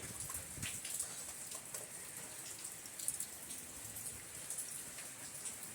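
Rain falls steadily through a whole day of bad weather, with pools of water collecting on the ground, a soft, faint, continuous patter with scattered drops.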